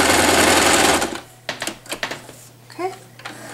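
A sewing machine stitching a fabric headband runs in a loud continuous whir for about a second, then stops, followed by scattered clicks and handling noises and a brief voice.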